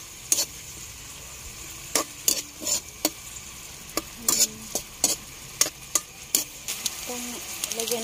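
Fresh miki pancit noodles are stirred in a pan with dried fish and pepper, giving a series of intermittent scraping and clinking strokes of a utensil against the pan over a faint steady sizzle.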